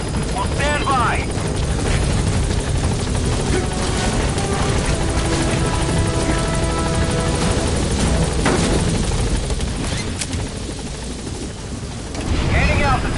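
The Pequod helicopter in Metal Gear Solid V touches down, its rotor and turbine roaring loud and close throughout with a steady chopping rumble while radio voices talk over it.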